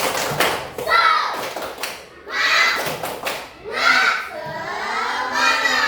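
A class of children does the 'tepuk semangat' spirit clap in a classroom, with bursts of rhythmic clapping mixed with loud, bright chanting voices in short phrases and brief pauses between them.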